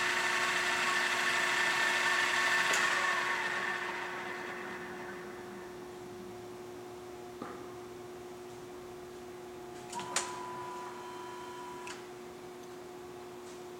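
An Ikeda RM-1175 heavy-duty radial arm drill press, 4 ft by 13 in, runs its spindle at several speeds: a steady, fairly quiet mechanical hum that drops in level partway through, with a few faint clicks and ticks.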